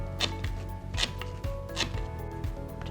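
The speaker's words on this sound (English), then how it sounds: "what we're going to do now is chop up our basil" A knife chopping rolled basil leaves on a cutting board, sharp close taps falling in an uneven rhythm about every half second, alone and fairly quiet.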